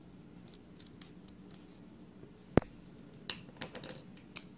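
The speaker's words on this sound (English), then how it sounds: "we'll go ahead and cut off our excess on the cotton" Scissors snip excess cotton wicking on a vape coil for a Freemax Starre sub-ohm tank, giving one sharp close click followed by a few lighter metallic snips and taps in a quiet room.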